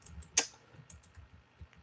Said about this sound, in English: So we're going to finish typing this in here.